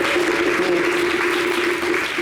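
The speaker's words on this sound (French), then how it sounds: "On applaudit vraiment le geste." A studio audience on a variety television show applauds in a dense, continuous burst, loud and close throughout with no pauses.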